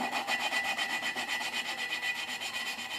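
Steady rhythmic grinding and rasping of a valve being lapped against its seat on a 1995 Enfield Bullet 500, repeated back-and-forth strokes at an even pace throughout.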